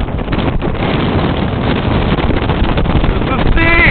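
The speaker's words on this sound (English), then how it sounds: "a very windy day here in the city" Strong wind on a city street buffets the microphone as a loud, constant roaring rumble, with the gusts continuing steadily throughout.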